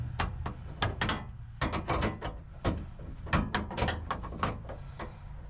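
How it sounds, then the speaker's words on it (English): A fuel tank is bolted back onto a vehicle, producing a quick series of close metallic clanks, knocks and ratcheting clicks in an irregular rhythm. "we just sit the tank back down on top of it and bolt it on"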